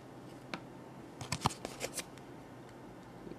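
A cardboard game card from a boxed Star Wars Clone Wars Pre Vizsla figure set is handled, giving soft papery scrapes and a quick cluster of crisp flicks and taps close by in a quiet room.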